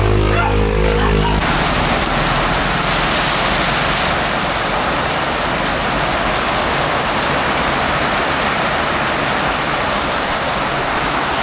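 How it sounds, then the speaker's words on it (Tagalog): Heavy rain pours down in Cabanatuan City in a constant loud hiss, drumming steadily on surfaces after a brief rumble at the start. "lakas na ng ulan"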